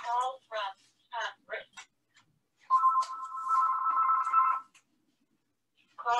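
An office telephone rings once in a sustained electronic trill lasting nearly two seconds, set between bursts of a man's nearby speech before and after it.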